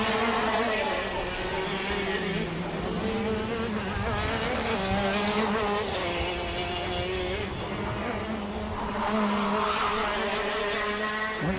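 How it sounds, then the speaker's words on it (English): Racing karts scream down an extra long back straight at a club race meeting, several high-revving engines buzzing together loud and close, pitch rising and falling as they pass. "Karts go straight up through and they have an extra long back straight."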